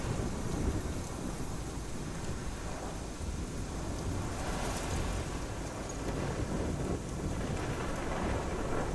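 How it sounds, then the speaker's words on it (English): Rain pours steadily through a thunderstorm in the video game Life Is Strange, with a continuous loud wash of rainfall and low rumbling thunder swelling around the middle and again near the end, with no voices. "This is my storm."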